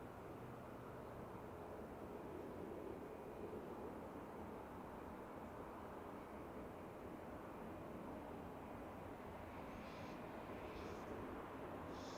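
Distant jet aircraft taking off at Manchester Airport in snowy weather, a steady broad rumble of engine roar that holds throughout at moderate level, with faint brief higher tones near the end.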